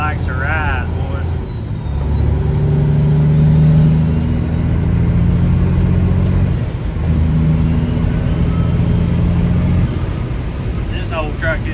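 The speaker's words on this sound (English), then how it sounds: "This old truck get down the road." An old truck driving down the road: a deep, close engine drone swells and holds under a rising whistle-like tone, with people talking over it in the cab.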